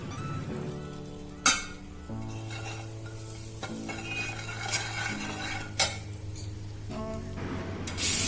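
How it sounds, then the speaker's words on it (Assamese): Salt and turmeric frying in hot oil in a pan, a steady low sizzle under repeated stirring with a metal spoon, sharp scrapes and clinks against the pan at intervals, no talking. "নিমখ আৰু হালধিখিনি মই তেলতে দি ল'ম। আপোনালোকে বেলেগকৈও দিব পাৰে আৰু ভালদৰে লৰাই দিব লাগিব।"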